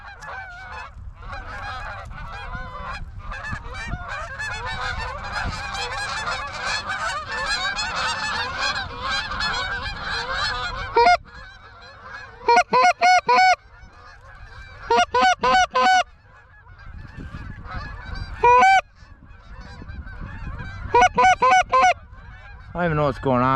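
A large flock of geese honks overhead during a blizzard on a goose hunt, dense overlapping calls filling the air loudly, then breaking into sharper bursts of honking with gaps of wind between, with a brief voice now and then.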